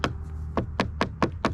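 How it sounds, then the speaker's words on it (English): Five sharp knocks on a thick, heavy-duty plastic front splitter lip fitted to a bagged MK7 VW Jetta GLI, evenly spaced at close range over a low background hum, with no talking. "This is actually a really heavy duty plastic. If you knock on it,"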